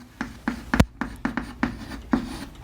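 Marker or chalk writing on a board during a chemistry lesson, a run of short, sharp, evenly spaced scratchy strokes close to the microphone with one louder tap.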